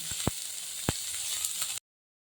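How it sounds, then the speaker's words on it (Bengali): Chopped coconut frying lightly in a pan while chana dal is made, a steady soft sizzle broken by a few sharp utensil taps, then cutting to silence near the end. "এই নারকোলটা আমি ভেজে নিই"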